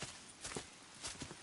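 Hooves of horses walking in a video game, a few soft, spaced thuds and clops heard faintly at moderate distance with no talking.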